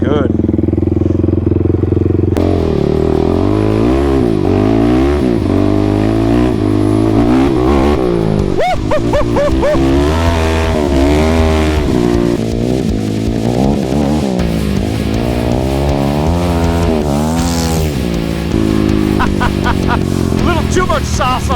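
A silver, red and blue motorcycle's engine revs hard and close, its pitch climbing and falling in repeated surges as it pops up onto its back wheel in a wheelie.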